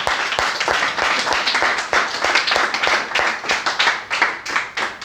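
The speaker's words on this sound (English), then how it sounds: "A round of applause for her." Applause from an audience at a Lahore English-language institute event, close and fairly loud, with individual claps distinctly audible in a lively uneven rhythm that holds for several seconds.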